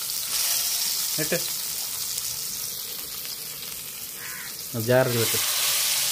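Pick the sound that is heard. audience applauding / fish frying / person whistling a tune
fish frying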